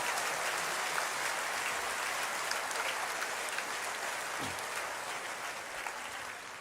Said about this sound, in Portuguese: ofereçam para Deus o mais lindo dos aplausos que você poderia oferecer